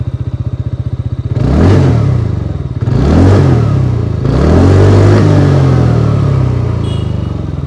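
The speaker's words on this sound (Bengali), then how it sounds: "এখানে এক্সস্ট সাউন্ডটা শোনাই, ওটা একবার ইঞ্জিনটাকে অন করি" A TVS Ntorq 125 scooter idles with a rapid, even putter, then its engine and exhaust rev up sharply three times in close succession, each swell loud and near before settling back.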